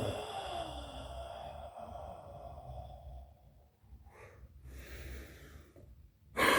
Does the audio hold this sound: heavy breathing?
yes